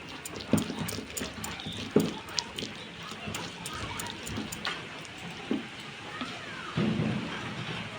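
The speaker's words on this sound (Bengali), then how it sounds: "কীভাবে বৃষ্টিটা পড়ছে, আওয়াজটা তোমরা শুনতেই পাচ্ছ, খুবই বৃষ্টি হচ্ছে এইদিকে" Heavy monsoon rain pours down in stormy wind, a steady wash of noise broken by several sharp cracks and thumps at irregular intervals.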